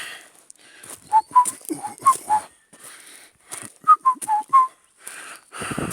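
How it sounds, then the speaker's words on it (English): A person whistles outdoors at a mined-out gravel area, giving two short phrases of clear, separate notes close to the listener. "I do that a lot, whistle."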